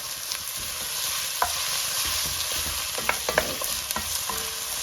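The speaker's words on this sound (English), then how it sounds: "We let it saute for about 2 minutes there" Red and white onions sautéing in a pan, a steady loud sizzle with intermittent scraping and clicking stirs of a utensil, more frequent toward the end.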